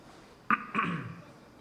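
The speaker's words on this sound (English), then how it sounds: "you can just hear me in the background, just clearing my throat" A single brief, quiet throat clearing by a cricket commentator during a T20 match broadcast, a short gruff burst followed by a rougher rasp, heard faintly in the background.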